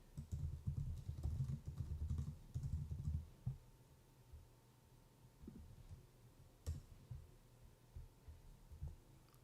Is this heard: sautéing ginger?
no